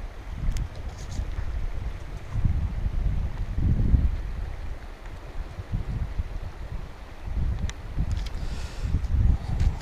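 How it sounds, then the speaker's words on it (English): Strong gusting wind blowing outdoors, buffeting the microphone with a steady low roar that swells and dips for the whole stretch. "And it is very windy out here today. Blowing all over the place."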